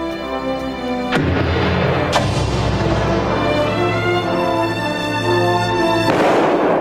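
A loud shotgun blast booms out in an animated Farthing Wood scene, followed by a second sharp crack and a sustained rumbling roar, with no voices.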